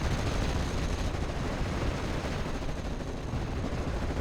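Machine-gun fire, likely the British Vickers HMG in the game Company of Heroes, a dense continuous rattle of rapid shots mixed with distant battle rumble, no voices.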